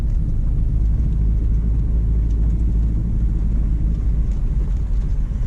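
A 2006 Subaru Forester with General Grabber ATX 215/65 R16 tires climbs a rise off-road, its engine a steady low rumble close up, with no talk.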